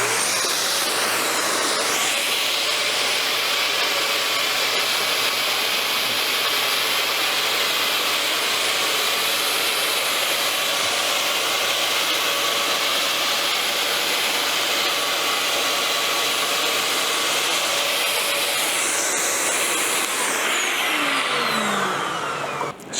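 A Petra Tools fogger sprays up toward high windows, a loud continuous blowing roar with a hissing whine that holds steady for over twenty seconds before cutting off abruptly.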